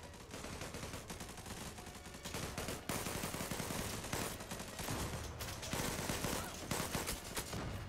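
Dense gunfire in the shooter Zula, continuous rapid automatic bursts and overlapping shots at steady loudness for the whole stretch, sounding like a busy firefight with no voices.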